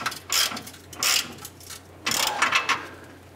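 Ratchet snugging a front bumper bolt on a 2011-2018 Dodge Ram 1500, three short bursts of rapid clicking with pauses between, close up and fairly loud, no talking.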